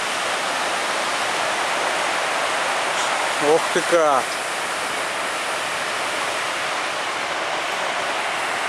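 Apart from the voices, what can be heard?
rough sea surf on the Black Sea coast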